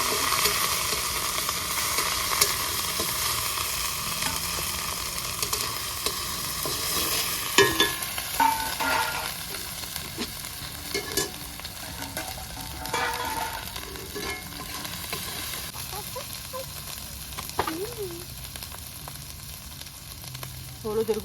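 Ginger, garlic and chili paste frying and being stirred in a pan for a desi-style pork curry, a steady loud sizzle with intermittent scraping and stirring clatter throughout, no talk.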